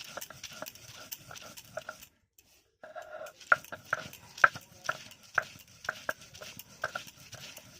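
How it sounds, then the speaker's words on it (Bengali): Coriander leaf chutney ground by hand on a stone slab, a steady run of rhythmic scraping and knocking strokes up close, broken by a short pause before the grinding resumes, with no talking. "আমি মিক্সিতে দিচ্ছি না, হাতেই বেটে দেখাচ্ছি"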